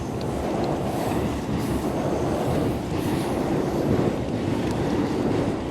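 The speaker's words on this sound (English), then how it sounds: "Looks like we have an Amtrak train going over the bridge." Amtrak train rumbling steadily across a bridge near a small island, a continuous dense roar of wheels and cars with faint squeal and wind buffeting the microphone.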